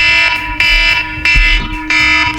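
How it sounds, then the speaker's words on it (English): An alarm blares in a loud, repeating pattern of harsh buzzing bursts, about four pulses in quick succession, close and alone. "What other alarms do I have set?"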